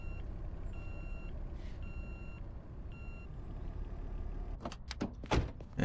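Truck reversing alarm in the Car Dealer Simulator video game, a steady series of electronic beeps repeating at an even pace over a rumbling engine, followed near the end by a few louder clunks.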